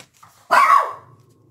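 A dog gives one short, sharp bark of moderate loudness, alone against a quiet background with a faint hum before and after.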